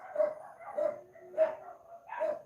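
A neighbor's dog barking in short, repeated yaps, four distinct barks in an uneven rhythm, fairly close and clear against a quiet background.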